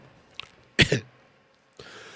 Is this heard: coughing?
yes